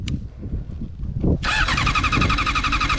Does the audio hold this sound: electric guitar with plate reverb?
no